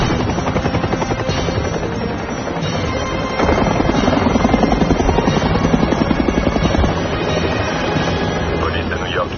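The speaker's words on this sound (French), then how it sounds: "Les hélicos se sont lancés à sa poursuite." Police helicopters chase a suspect over New York in a French-dubbed episode of the TV series 24. A loud, steady rotor thudding drones on throughout, close and continuous.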